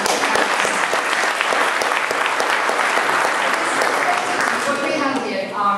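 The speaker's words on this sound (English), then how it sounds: "could you just give it a round of applause for our amazing" A conference audience at a FinTech panel discussion gives loud, dense applause that goes on steadily and then starts to thin out near the end.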